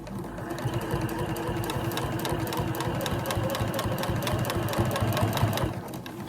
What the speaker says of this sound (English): now I'm just going to top stitch along here